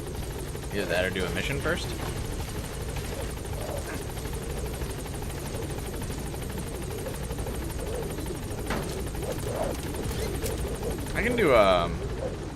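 Helicopter rotor drone from Metal Gear Solid V: The Phantom Pain, hovering at a landing zone, steady throughout with gunfire-like bursts and a louder swell near the end, under ongoing talk.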